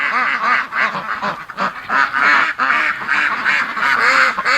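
Breeding ducks gathered on a winter morning quack loudly and repeatedly nearby, a dense, overlapping chorus of honking calls that never stops.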